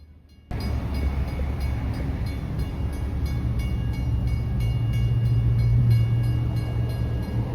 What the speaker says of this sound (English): the train started back underway again